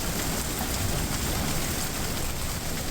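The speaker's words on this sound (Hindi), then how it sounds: "बारिश मुसलसल अभी तक जारी है" Steady heavy rain pours down in a dense, unbroken hiss of drops striking surfaces, loud and close throughout with no talking.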